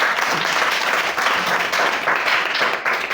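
A classroom of Std 5 pupils at a village Zilla Parishad school claps for a classmate, brisk, lively applause running steadily throughout at close range.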